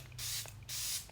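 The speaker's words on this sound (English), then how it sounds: "just nice, light, natural Holy Grail Charlotte Tilbury Setting Spray" Charlotte Tilbury setting spray misted in two bursts, each a bright, breathy hiss lasting about half a second, close and fairly loud over a low steady hum.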